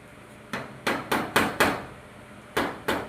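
Sharp hard taps on a plastic-and-metal paper pickup unit part from a Canon iR 3025–4570 series copier, seven distinct close knocks in an uneven rhythm with quiet gaps, no talk.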